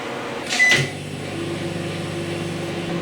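A kitchen microwave oven heating a plate of quinoa hums steadily with a low mechanical drone, preceded by a brief clunk of the door or button near the start.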